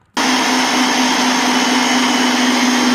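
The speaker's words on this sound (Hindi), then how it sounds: "इस तरह से जो है ये मिक्सर चलता है जो कि काफ़ी ठीक तरीके से आटे को नीट करता है" A Butterfly Magic food processor kneading dough runs with a loud, steady motor whine that starts abruptly and holds without a break, with no voices.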